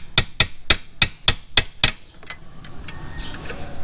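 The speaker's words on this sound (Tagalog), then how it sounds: "Kailangan nyo lang siyang martilyuhin." A metal hammer strikes a tight bolt on the seat cowl of a Yamaha R15 V3 motorcycle, seven sharp, evenly spaced clanking blows close up, followed by a few lighter taps and faint rattles.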